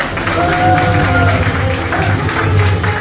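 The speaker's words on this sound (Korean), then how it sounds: "함께 큰 박수 부탁드립니다." An audience at a Naju mayoral campaign event for the Democratic Party claps in steady, dense applause, with some background voices and murmur mixed in.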